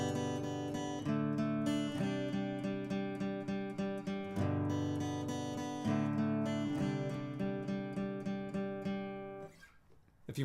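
A synth-like lead line on acoustic guitar blended with chords plays alone, with sustained layered notes and steady rhythmic plucked attacks over a low foundation, ending in a brief noisy rustle.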